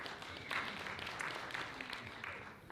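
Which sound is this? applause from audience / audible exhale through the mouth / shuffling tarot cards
applause from audience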